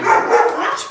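Several dogs barking together, a short burst of overlapping yips and barks, fairly loud and close.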